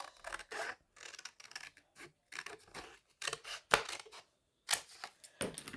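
Scissors snip through paper while a gothic Christmas journal is crafted, a close series of short, crisp cuts in irregular bursts with quiet gaps between them.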